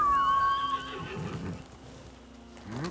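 A horse in the video game Ghost of Tsushima whinnies loudly and clearly, then quieter shuffling and hoof sounds follow.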